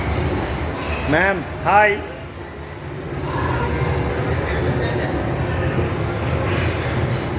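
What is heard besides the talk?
colourful toy train running in a shopping mall corridor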